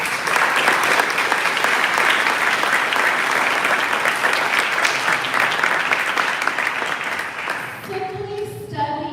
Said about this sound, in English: I want you guys to give yourself a round of applause